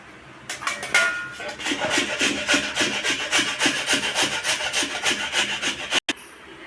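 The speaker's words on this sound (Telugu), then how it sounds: "ఇప్పుడు తురిమేసుకుందాం అన్నీ" Peeled mangoes are rubbed over a grater for jam, making a rhythmic, rasping scrape in quick repeated strokes, close and fairly loud, ending in a brief clatter.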